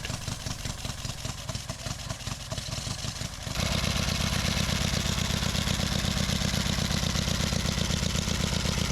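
A pre-1919 motorcycle on a Brisbane-to-Broome ride rattles as it is cranked, then its engine catches and settles into a loud, steady, close chugging idle.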